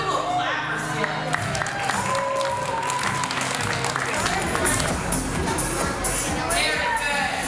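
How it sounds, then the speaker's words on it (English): Audience clapping for the Steelers at an NFL Play 60 event, a crowd applauding amid cheering, shuffling feet and babble of voices, busy and continuous throughout with people talking over it. "Let's do a little clap for Steelers."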